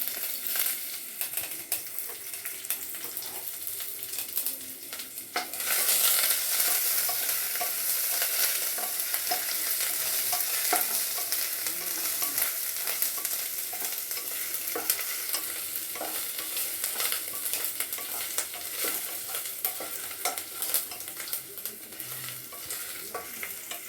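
Ginger, garlic, dried red chilies and curry leaves frying in hot oil, a continuous dense crackling sizzle that jumps louder after a few seconds and holds steady, close up with no voices.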